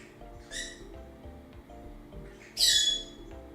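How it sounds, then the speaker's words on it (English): A pet indoor bird gives two sharp squawks, the second louder and longer, inside a quiet room with soft background sounds. "You are an indoor bird."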